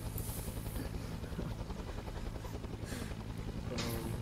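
A helicopter carries an artillery piece in a military video game, its rotor thumping in a steady, continuous drone throughout with no talk.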